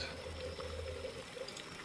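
Water runs steadily from an open tap in the Titan Chaser video game, a faint continuous splashing pour with no talk over it.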